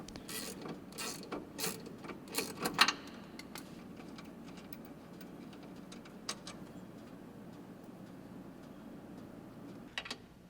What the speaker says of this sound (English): Your first step in the installation is to remove the factory nut holding the sway bar link to the sway bar. This is done by using a 15mm wrench and a 15mm socket.